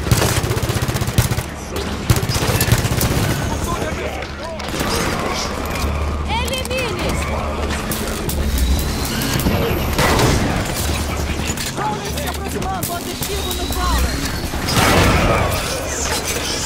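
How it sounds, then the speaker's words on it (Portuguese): Automatic turrets fire in Halo 5, a dense mechanical rattle of rapid bursts that goes on for many seconds amid battle noise, while players talk over it. "Torretas atirando."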